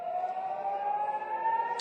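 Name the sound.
air raid sirens in Tel Aviv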